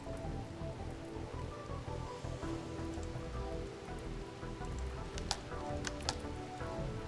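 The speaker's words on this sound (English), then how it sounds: "It's raining though" Steady rain falls in the RimWorld video game, a dense continuous patter with scattered sharper drop ticks, heard alone at an even level.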